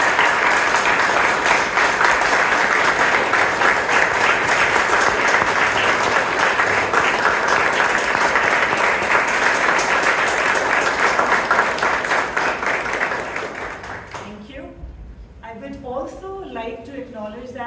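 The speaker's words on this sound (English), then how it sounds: "Let's give them a big round of applause." A Toastmasters club audience in Bangalore gives a big round of applause at a term-end meeting, thick continuous clapping holding loud and steady for about thirteen seconds before fading as a speaker starts talking.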